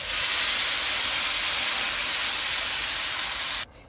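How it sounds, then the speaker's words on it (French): Water poured into hot, salted, seasoned rice in a pan for red rice, a loud continuous steam-like sizzle and hiss that holds steady for several seconds and then stops abruptly, close up with no talking. "j'ajoute maintenant de l'eau."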